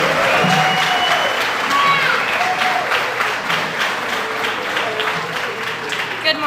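Sustained applause from a breakfast audience welcoming Miss West Virginia as a speaker, a dense steady wash of clapping with some cheering throughout.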